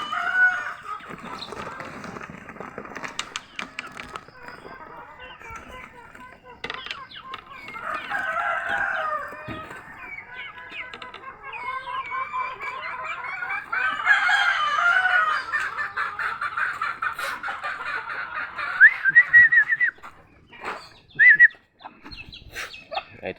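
Native chickens on a farm in a rural yard, with hens clucking and a rooster crowing several times, moderately close, along with other bird calls and a little background noise.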